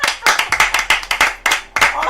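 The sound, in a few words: hands clapping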